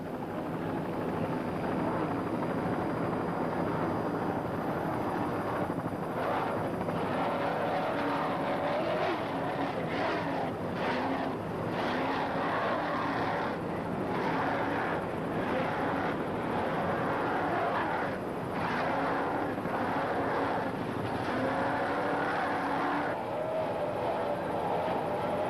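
Racing powerboat engines at full throttle in an offshore race near Atlantic City, a loud continuous roaring drone with choppy fluctuations throughout, heard from a distance under a broadcast mix.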